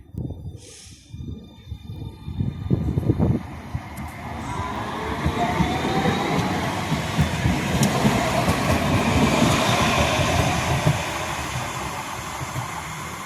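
A tram pulls away from its stop with clunks and rising wheel rumble, growing louder and steadier as it rolls past nearby.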